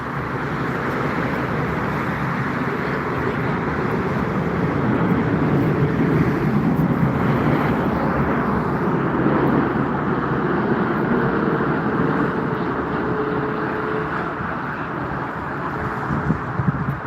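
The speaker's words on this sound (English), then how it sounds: "is arriving and making its final approach to Frankfurt International Airport. Korean Air cargo, Boeing 747." A Korean Air cargo Boeing 747 on final approach to Frankfurt Airport produces a steady, broad jet roar that holds at a fairly constant level and swells slightly as it passes, heard at a distance without talk.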